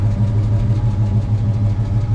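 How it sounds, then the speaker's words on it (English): A 1964 Chevrolet Malibu Chevelle with an exhaust leak idles steadily at close range. A deep, even engine rumble carries a faint rhythmic tick. "It's got that little bit of the tick just from that exhaust leak"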